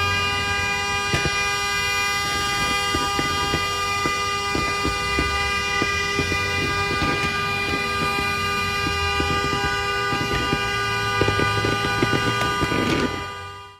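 An electric vehicle battery fire in thermal runaway roars loudly and continuously, with sharp whistling tones held over a rushing hiss and scattered crackling pops, before cutting off abruptly at the end.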